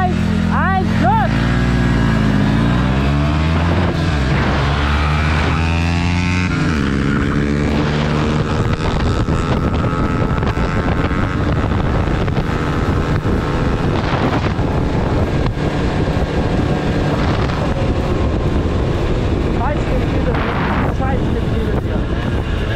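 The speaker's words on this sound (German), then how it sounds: "Man hört wirklich die Getriebe arbeiten." Peugeot Speedfight 2 70cc scooter with its gearbox working under way, a steady loud engine drone with rising and falling pitch as it accelerates, mixed with heavy wind rush on the microphone.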